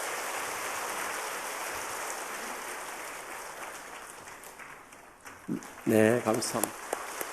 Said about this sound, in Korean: 우리 뜨거운 박수로 축하하고